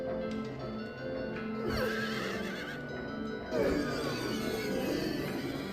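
A carousel horse in the video game Silent Hill 3 lets out loud, drawn-out neighs and whinnies over a droning game soundscape with hoof-like clip-clops, two distinct whinny bursts standing out close and clear.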